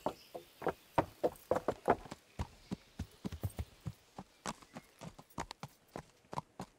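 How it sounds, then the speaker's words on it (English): A horse's hooves clip-clop in a medieval video game, a close, irregular walking rhythm of sharp knocks that slows slightly in the middle before continuing. "I have to put the horse in here."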